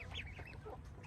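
One-week-old baby chicks on a farm, kept on straw, give a run of high, quick peeping chirps at close range with no talk.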